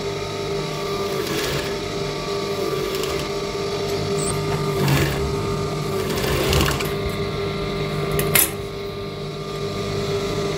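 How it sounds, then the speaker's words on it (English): A sewing machine runs in bursts while stitching cotton boxer fabric, its rapid mechanical stitching rattling close by, pausing briefly between runs, with no voices. "So I'm going to go to the machine, place it on each other and stitch"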